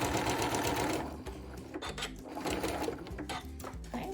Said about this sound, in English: I do have my machine set to backstitch.